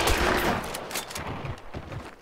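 Shotgun blasts in the video game Hunt: Showdown, several loud, close booming shots in quick succession with ragged echoing tails and no talk over them.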